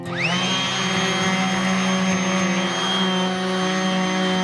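A power sander runs against a boat hull, spinning up with a rising whine and then holding a steady, loud mechanical drone with a harsh abrasive hiss, uninterrupted throughout.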